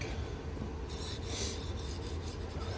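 A K390 steel knife is stroked across a 240-grit sharpening stone, producing a steady close rasping scrape with a few brighter passes, with no talking.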